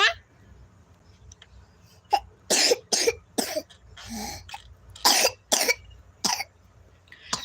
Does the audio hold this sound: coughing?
yes